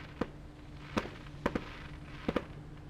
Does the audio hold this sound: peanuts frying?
no